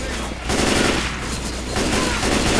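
Dense video-game gunfire in steady bursts and rapid volleys, loud and sustained across the whole stretch with a brief lull near the start, with faint voices underneath.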